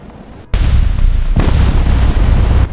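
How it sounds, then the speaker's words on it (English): A deep explosion sound effect for a September 11, 2001 documentary, a sudden loud booming rumble that breaks a quiet lull and rolls on with a second surge, no voices. "Distant but real, an explosion that seemed impossible on such a blue morning."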